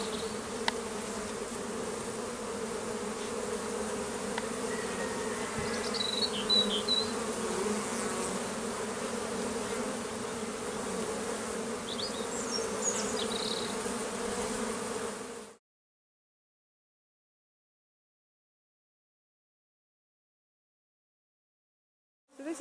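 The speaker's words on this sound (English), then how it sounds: "There are hundreds of bees coming in and going out, because this is the first really nice day," Hundreds of honeybees at a hive entrance on a warm, sunny day make a dense, steady buzzing hum that is close and continuous, then cuts out into silence for several seconds.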